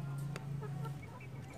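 Chickens in a backyard coop with a black Bangkok rooster give a few soft, short clucks, faint and close, over a steady low hum.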